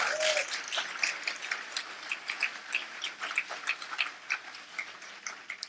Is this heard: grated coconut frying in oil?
no